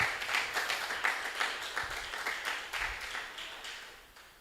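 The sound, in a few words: applause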